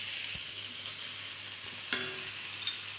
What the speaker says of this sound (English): now it's the time to put in the greens